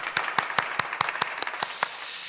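Clapping at a church prayer service during a new year dawn prayer meeting, a sparse, rhythmic series of about ten distinct claps that sounds like a small group or a few hands rather than a large crowd.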